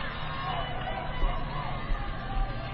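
A steady murmur of a crowd fills the stands at a high school football game under the lights, broad and continuous with faint babble and occasional swells.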